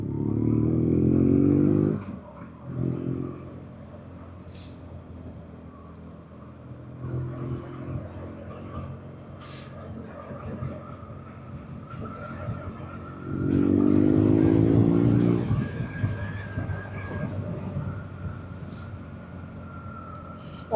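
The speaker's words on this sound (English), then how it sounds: "A lot of bikes out today." Motorcycles pass on a country road in the Forest of Bowland, heard from a riding BMW R nineT Urban G/S under wind rumble: two loud engine swells, near and rising then fading, with quieter passes between.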